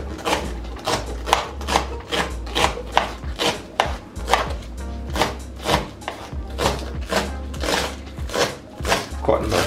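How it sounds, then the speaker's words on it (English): A knife chops green onion on a board in steady, rapid strokes, each a crisp close thud, repeating evenly for several seconds. "Alright, so I'm gonna have my green onion then."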